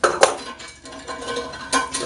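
Short metallic clinks and scrapes of a handle being worked off a Zurn pressure assist toilet tank, a few sharp close knocks in quick succession with no talking.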